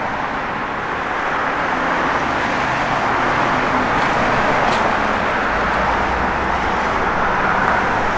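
A 1970 Dodge Challenger convertible with a Hemi under a sport hood runs and drives, its engine a steady, fairly loud broadband rumble that holds evenly throughout with no talking.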